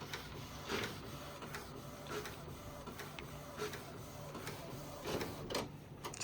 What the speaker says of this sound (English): So let it print.